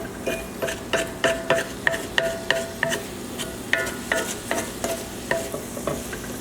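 Shallots being sautéed in a pan and pushed toward the center, a steady sizzle broken by a rapid, regular series of sharp scraping and clicking strokes, close and fairly loud, with no talk.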